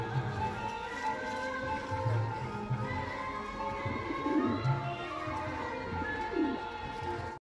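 A male Bengal pigeon of the Kala Sabuj breed coos in low repeated throaty notes, close and steady, with a faint hum of background noise throughout.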